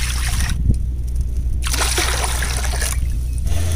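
Water poured from a cup in a village-style kitchen while making poonthi for Deepavali, heard as a few splashy, splattering bursts of liquid with short pauses between them.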